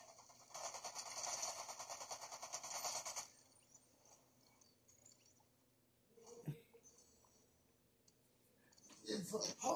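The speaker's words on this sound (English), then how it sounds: "You have a lot of shooting coming down this way." Gunfire in the game Fortnite during a duos match: a dense, loud burst of rapid shots for about three seconds, then quieter scattered pops and a final flurry, with players talking over it.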